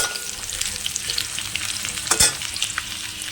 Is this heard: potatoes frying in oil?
yes